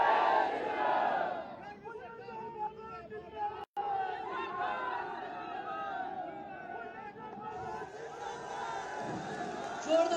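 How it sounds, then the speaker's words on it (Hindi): Large election rally crowd chanting a religious slogan in unison, dense massed voices with a broad roar of crowd noise throughout, a brief cut near the middle, swelling again at the end. "एक बार आप मेरे साथ बोलेंगे, जय श्री राम"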